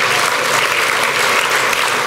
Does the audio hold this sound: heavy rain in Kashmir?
no